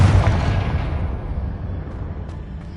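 A Confringo spell explosion in the video game Hogwarts Legacy: one loud, close blast that rumbles heavily and slowly fades away over a couple of seconds.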